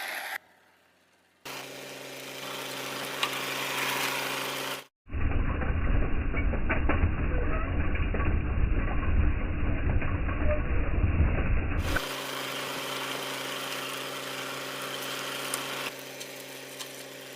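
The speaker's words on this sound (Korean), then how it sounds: "이제부터 트랙터를 이용해서 감자 캐는 모습을 한번 보시겠습니다." A tractor digs up spring potatoes in a field in Goesan, Korea, giving a steady, loud mechanical roar with hissing and clattering that drops out briefly, then runs on unchanged, with no talking.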